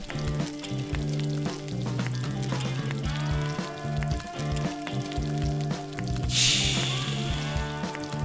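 Steady crackling sizzle of onions frying in butter in a hot cast-iron pan, continuous and close, with a brighter burst of hissing near the end.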